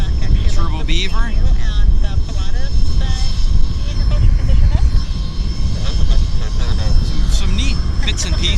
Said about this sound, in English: Turbo Beaver.